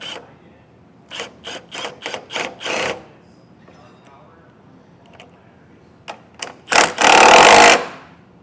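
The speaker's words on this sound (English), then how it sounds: "Then we'll take a 17mm socket and snug these down." A 17mm socket snugs down bolts on a Curt trailer hitch receiver fitted to a 2023 Buick Enclave, heard as a run of short ratcheting bursts followed by a louder, longer burst near the end, with no talk over it.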